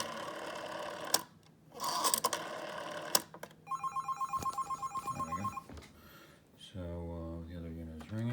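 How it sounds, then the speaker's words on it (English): A telephone rings with a rapid electronic trill, preceded by a few clunks and mechanical rattles, close; a voice speaks briefly near the end. "The other unit is ringing."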